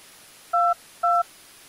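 Two short telephone keypad DTMF tones, each about a fifth of a second, sound cleanly over faint line hiss while a phone number is entered into an automated Romanian voice prompt system.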